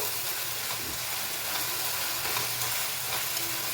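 Ginger garlic paste and tomato fry in a pan for hotel-style egg dum biryani, giving a steady, close hiss and sizzle that runs evenly throughout with no talking.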